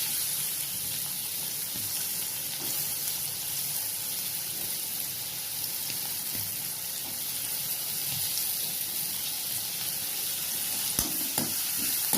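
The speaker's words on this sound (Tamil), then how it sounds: "இப்போ இந்த நறுக்கி வச்ச வெங்காயத்தை இதில் போடுறேன்." Steady, loud sizzling of onions frying in a pan, a continuous crackling hiss with faint stirring clicks near the end.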